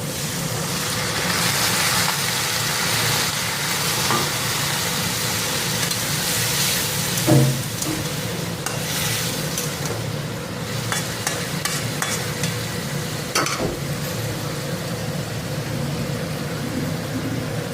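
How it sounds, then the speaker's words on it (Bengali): A curry bubbles and sizzles in a pan with a splash of water as it is stirred, a steady moderate hiss broken by a few sharper scrapes and clinks of the spoon, with no voices. "নেড়ে দেবো। হালকা জল দিয়ে দেবো।"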